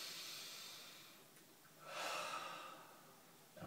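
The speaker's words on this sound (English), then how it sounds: "take a deep breath in" A person takes a deep breath in, a soft close airy inhalation swelling in the middle after quieter breathing, with no speech.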